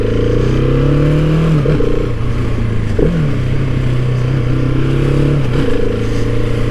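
A Husqvarna 701 Supermoto single-cylinder motorcycle engine drones loudly and steadily on a first ride, holding a near constant pitch with a few brief dips and rises as the throttle shifts, wind noise layered over it.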